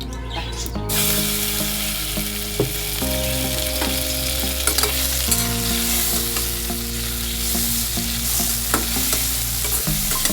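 Taro frying in oil with mustard seeds and dried chilli gives a steady, close sizzle with light stirring and scraping throughout, alone without talk.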